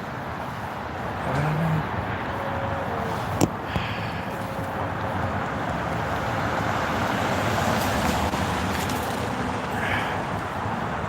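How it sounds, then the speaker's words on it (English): Wind blowing outdoors on a chilly night: a steady, loud broadband rush that swells slightly toward the middle, with a couple of sharp knocks and faint distant traffic underneath and no talk. "Chilly tonight with that wind."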